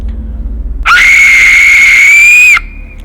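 A death whistle is blown hard, letting out a loud, sustained, harsh human-like scream that holds for nearly two seconds at close range before stopping abruptly.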